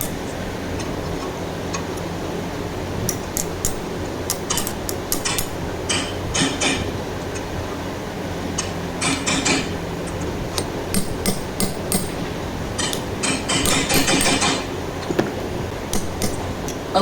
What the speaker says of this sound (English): it's enough to cut it with something. A metalworking screwdriver.